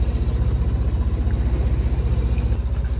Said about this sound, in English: the engine is working